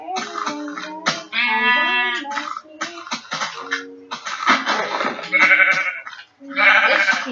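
Repeated Minecraft sheep bleats sound over one another with clean, synthetic tones and clicks, loud and close.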